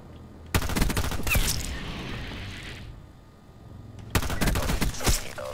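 M16 fitted with a double grip firing in Black Ops 4, two loud close automatic bursts separated by a few seconds of quieter game ambience, each burst a rapid stutter of shots.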